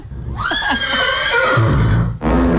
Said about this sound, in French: j'ai une machine qu'on voit plein de sons, regarde. Un cheval.